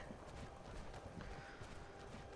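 Horse hooves clip-clopping in the video game Skyrim VR, a steady stream of soft hoof beats over a busy, constant background of ambient game sound.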